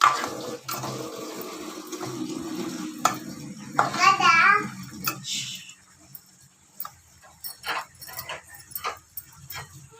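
A spoon stirs stuffed brinjal curry in a pan, with irregular scraping and clacking against the metal and a faint sizzle underneath, close and fairly quiet.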